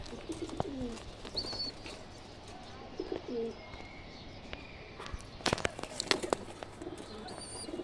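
Pigeons in a loft collection give soft, low coos at intervals, with scattered chirps, shuffling, wing flutters and sharp knocks nearby against a quiet background.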